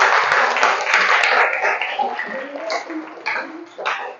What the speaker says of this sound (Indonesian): Berikan tepuk tangan kepada Siva.